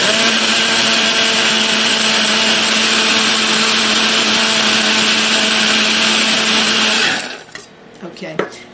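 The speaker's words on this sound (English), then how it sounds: "Now, this is my top to the grinder. I'm going to go ahead and put it down. It's going to make a little noise" Electric grinder whirring steadily at full speed as it grinds dried lemon pieces, a loud continuous motor hum lasting several seconds, then cutting off, followed by a few faint rattles and knocks.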